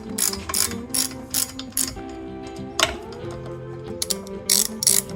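Hand ratchet clicking in repeated bursts as it snugs down the bolts on a welded bench hitch mount built for a portable bandsaw, close and alone with no talk.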